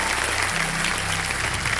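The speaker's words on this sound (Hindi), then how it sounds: "तालियां बज जाएंगी" Studio audience applauding on the KBC quiz game show set, a steady dense wash of clapping filling the whole moment at moderate level with a low hum beneath.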